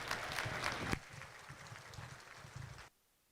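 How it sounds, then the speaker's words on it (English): Audience applause at a junior heifer livestock show in Highlands County, a dense burst of clapping that swells briefly near the start, then continues more softly for about two seconds before cutting off abruptly. "Let's give these young ladies another nice round of applause."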